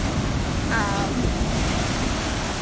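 Ocean surf rolls onto the shore as a steady, loud wash of broadband noise, with a brief faint voice-like tone near the start.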